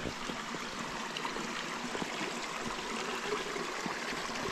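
A stream flows past a trail crossing in the Appalachian woods, a steady close-up rush and trickle of water with faint bubbling, no voices.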